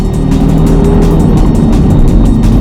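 A Ford Mustang engine revs hard at full throttle during a test drive, a loud, close, continuous roar with a steady low rumble and rising tone.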